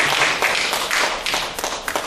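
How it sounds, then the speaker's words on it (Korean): An audience at a Korean academic conference claps to welcome a professor to the podium. The burst is brief and fairly dense, close and moderately loud, with no talk over it. "박수로 맞이하십시오."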